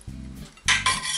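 Utensils scraping and clinking against a pan and plate as braised steak in homemade gravy is lifted out: two short metallic scrapes with a low pan rumble, close and brief.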